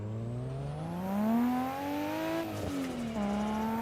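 A race car engine in the Assetto Corsa video game revs steadily on the Nürburgring, its smooth pitch rising and dipping through a gear change, loud and continuous with a faint tire whir.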